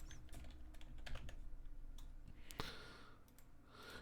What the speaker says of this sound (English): So let's type in Golem.